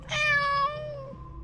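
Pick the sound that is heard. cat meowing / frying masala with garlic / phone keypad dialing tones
cat meowing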